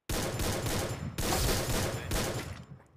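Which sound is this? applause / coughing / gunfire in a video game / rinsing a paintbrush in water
gunfire in a video game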